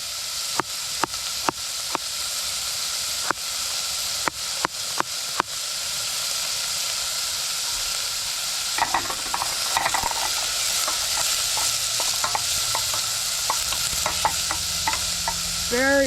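A camping stove burns with a steady close roar under a pot of tomato and bean soup, with a string of sharp ticks early on and soft stirring and clinks later, no one talking.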